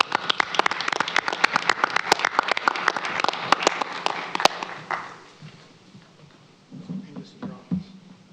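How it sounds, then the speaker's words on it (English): Audience applause at a school Board of Education meeting honoring a staff member's years of service: dense, steady clapping from a room of people for about five seconds, then fading out as a voice begins speaking. "So can we all please give Brian Violi a round of applause?"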